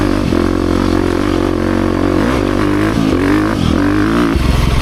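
A 2023 KTM 350 XC-F Factory Edition four-stroke dirt bike engine runs loud and close, its steady drone rising and dipping through several revs and throttle blips.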